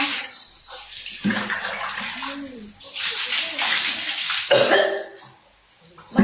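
Water pours and splashes steadily during a ritual full-body bath (mandi junub) in Aceh, with voices murmuring faintly beneath the close, continuous rush.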